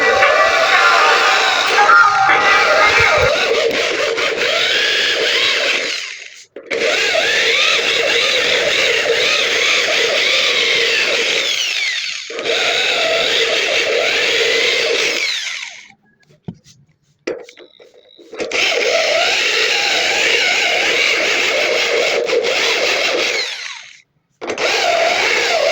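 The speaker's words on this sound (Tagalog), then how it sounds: "magbabari na tayo para sa lalagyan ng bolt" Power drill boring bolt holes through wooden boards, running loud and close in long sustained bursts with short pauses between holes.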